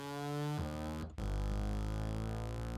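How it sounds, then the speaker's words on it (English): A distorted synth bass note holds steady, then pitch-bends upward with a 24-semitone bend range. It cuts out briefly, then sustains loud and buzzy as a gritty, harmonically rich tone. "I pitch bend it all the way up"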